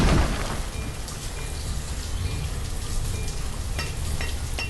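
Steady rain falls in the Banished village-building game, a dense continuous patter with a low rumbling undertone, constant and fairly loud with no talking.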